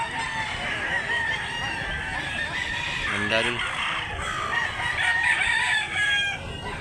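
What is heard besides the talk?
rooster crowing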